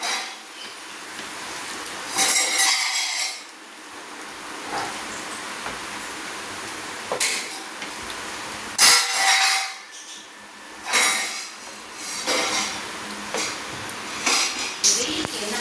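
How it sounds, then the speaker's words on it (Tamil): Chicken pieces being stirred in a frying pan for Karnataka chicken fry, with repeated scraping and clanking bursts of a utensil against the pan at irregular intervals over a faint background hiss. "உடையாமல் நல்லா பார்த்து நம்ம கிளறி விட்டுக்கணும்"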